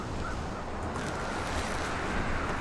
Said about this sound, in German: Jetzt wird's windig.